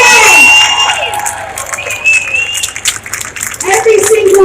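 Loud outdoor crowd at a freedom march in London near the Bank of England, with clapping, cheering, whoops and whistles swelling and dipping in waves, voices shouting over the noise.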